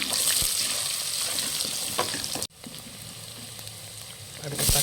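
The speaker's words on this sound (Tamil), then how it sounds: "வெந்தயம் பொன்னிறமாக வதங்கிருச்சு, வெங்காயத்தை போட்டு வதக்கிடுவோம்." Onions sauté in hot oil with fried fenugreek seeds for a crab curry, a continuous close sizzle with occasional stirring clatter, dipping for a moment midway before rising again.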